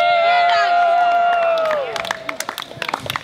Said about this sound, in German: Und auch einen Applaus an unser Publikum, die so gut aufgepasst haben.